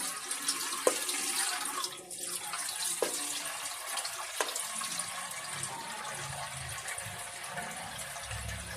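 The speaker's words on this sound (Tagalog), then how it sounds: "lagyan lang natin ng dagdag na sabaw na tubig" Water pours steadily into a pot of cooking mung bean soup close by, a continuous splashing flow with a few clinks of metal, and no speech.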